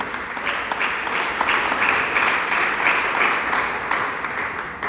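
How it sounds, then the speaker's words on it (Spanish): A church congregation claps steadily throughout, a dense, even wash of applause filling the space, loud and sustained without any speech on top. "Dele palmas al Señor."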